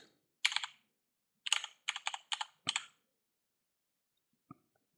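Typing a Linux command on a computer keyboard during an Nvidia driver setup: two quick bursts of crisp key clicks, a short run and then a longer one, close and clear, ending in silence and a faint final tap.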